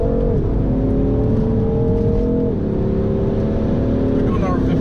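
A BMW M3 engine revs loud and close from inside the car while downshifting, its tone climbing steadily and then jumping sharply twice as gears change.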